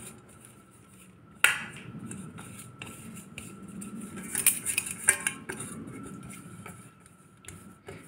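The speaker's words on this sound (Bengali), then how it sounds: "এই সাদা তেলটা দিয়ে ভালো করে বাটির গায়ে মাখিয়ে নেব" Hand rubbing vegetable oil around a metal bowl before steaming khaman dhokla, with light scraping and intermittent sharp metallic clinks and taps, close and fairly quiet, no voices.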